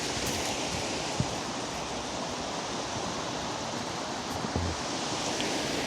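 Steady broadband rush of river water flowing nearby, continuous and fairly loud without pauses, with a couple of faint knocks on top.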